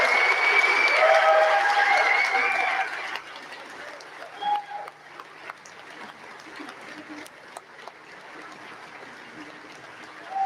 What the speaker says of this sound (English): just come up here and just acknowledge the applause of your adoring fans